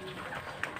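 Pet bird of an African breed with black markings on its head, cooing softly in short, faint calls against steady background noise, with a brief louder note near the end.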